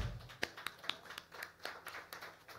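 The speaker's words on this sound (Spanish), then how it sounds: "un aplauso a Mon por traer esas canciones de vuelta." Applause at an intimate acoustic music session, a small, quiet audience producing sparse, distinct hand claps in an uneven rhythm, faint and close with no talk.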